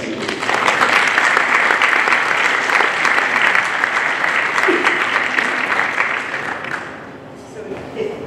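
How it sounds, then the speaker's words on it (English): A luncheon audience at an honors event for a graduating high school class gives a long, warm round of applause for a guest, dense and loud at first, then thinning out near the end as a voice begins. "So please give a warm round of applause to Ms. Patsy."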